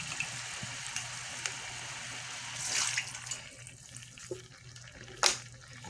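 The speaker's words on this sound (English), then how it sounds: "I'm putting in 1 more cup of water" A cup of water pours into a pan of bell pepper spaghetti, a continuous close splashing gush with a brief brighter surge midway and a sharp clink near the end.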